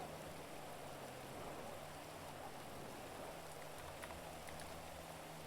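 Steady rain falls outdoors as a constant broadband hiss with soft patters, while a low hum runs underneath throughout.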